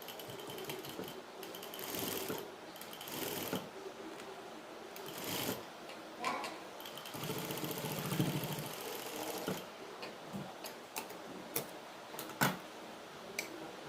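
A sewing machine stitches a blouse with a scallop neck, running in short, quiet bursts of rapid ticking with pauses and small handling clicks between them.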